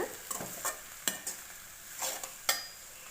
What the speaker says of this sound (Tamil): எல்லாத்தையும் சேர்த்து நல்லா கிளறி விடுங்க.